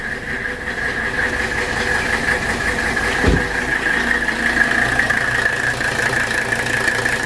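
A 1985 Mercedes 300CD engine runs after cranking, a steady idling rumble close by with a constant high whine on top and a brief low thump midway.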